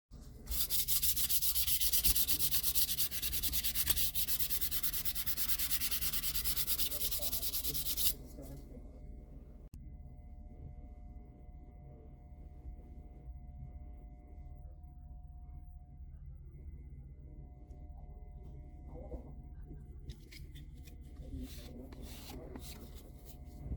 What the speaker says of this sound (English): So we're going to sand it back and redo the whole thing like it used to be.